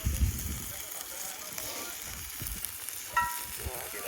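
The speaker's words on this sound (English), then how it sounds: "See that sizzle." Diced vegetables sizzle in a pan during a camp cook-up, a steady broadband frying hiss running throughout with occasional stirring clatter and scrapes, close and moderately loud.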